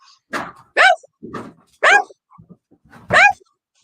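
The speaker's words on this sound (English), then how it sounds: "My dog's gonna bark here" A pet dog barks indoors three times in loud, sharp bursts at an even pace, with quieter sounds in between, during a casual home recording.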